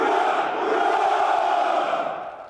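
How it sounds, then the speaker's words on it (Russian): A large crowd of soldiers roars a sustained hurrah outside the Kremlin Arsenal in Moscow during a Victory Day regimental ceremony, one loud, continuous massed shout that fades slightly at the end. "Троекратное «Ура!» под стенами кремлевского арсенала."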